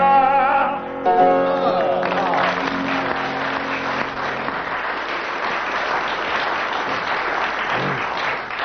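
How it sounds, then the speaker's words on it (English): Studio audience at a radio comedy panel show breaks into sustained applause, loud and dense, following a brief musical or tonal opening, continuing steadily to the end. "the audience applauded for 25 seconds"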